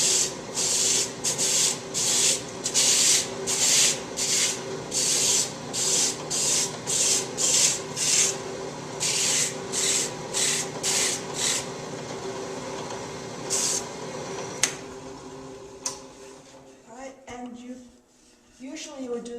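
Wood being hand sanded makes rhythmic, evenly spaced scratchy strokes, close and steady. A voice talks throughout, and the sanding stops near the end, leaving only handling noises.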